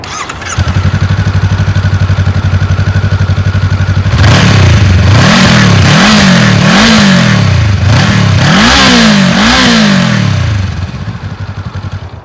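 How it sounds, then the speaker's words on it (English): A 2022 Honda CB500X on its stock exhaust idles steadily, then revs in a series of about five rising and falling blips before settling back to idle, loud and close with no talking. "Let's do a quick sound test with the stock pipe."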